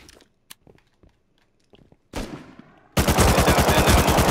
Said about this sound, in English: One more right beside me, he's shooting at me.